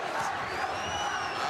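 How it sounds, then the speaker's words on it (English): Boxing arena crowd of thousands with a section chanting a fighter's name, a loud, sustained roar of voices with a rising whistle-like tone over it, steady throughout the short stretch. "Chant of Macho from a portion of the crowd"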